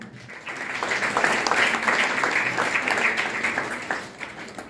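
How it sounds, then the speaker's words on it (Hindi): Loud audience applause at an honouring ceremony in Hisar, many hands clapping in a thick sustained wash that swells in the middle and eases slightly toward the end. "सभी ने अच्छी भावना दी है तो उसके लिए भी जोरदार तालियां।"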